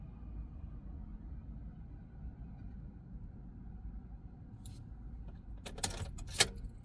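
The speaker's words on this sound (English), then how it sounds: "Now remove the key from the ignition." Keys jangle briefly near the end as a car key is pulled from the ignition of a 2013-2017 Nissan NV1500 van, a few close metallic clinks over a low steady rumble.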